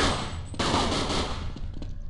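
A heavy machine gun fires in the game Counter-Strike Online, loud rapid bursts of shots close up, with a brief pause before the firing resumes and rattles on.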